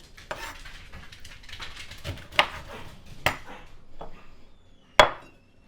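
Knife roughly chopping dead nettle leaves for pesto on a board, soft scraping cuts with a few sharp loud knocks spaced unevenly, close by with no talk.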